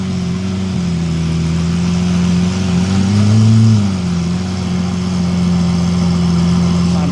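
A car's engine idles close by with a steady low hum, rising briefly in pitch as it comes off the clutch and pulls away at an indoor motor show, then settling back.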